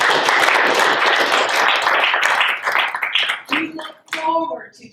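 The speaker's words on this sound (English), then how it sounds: "That deserves a round of applause." At a school board of education meeting, a room full of people breaks into steady applause that thins into scattered individual claps before a voice resumes.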